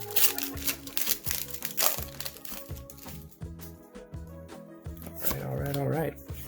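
Pokémon trading cards are handled and shuffled close up, a run of crisp flicks, slides and crinkles from pack wrappers, with faint background sound under them.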